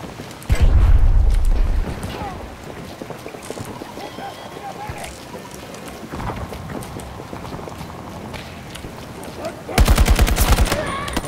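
Machine gun fire in a Battlefield video game, rapid automatic bursts, loud near the start and again near the end, with a busy battle soundscape and voices shouting between them.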